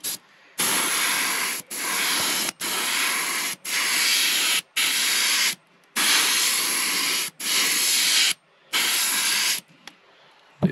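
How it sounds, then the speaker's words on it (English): Repeated bursts of aerosol spray paint sprayed through a loofah onto a soft plastic fishing lure, each hissing steadily for about a second, separated by short silent pauses, close and loud. "we're going to spray through this loofah here and just put some little scale marks along the back"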